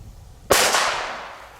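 A Hestia NWP Mini Corsair firecracker bursts with a single sharp, loud bang after a quiet moment, followed by a second crackle and a decaying tail, with no one speaking.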